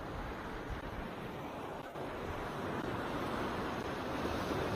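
Ocean waves washing onto the rocky shore at Mahatao, Batanes, during a calm high tide, a steady broad surf wash mixed with wind buffeting the microphone, fairly faint and with no voices.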